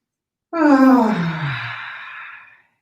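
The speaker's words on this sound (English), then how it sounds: "Deep cleansing breath." A single deep cleansing breath during a gentle grounding exercise session, a long, close, audible exhale sigh that swells quickly then fades over about two seconds, alone in quiet.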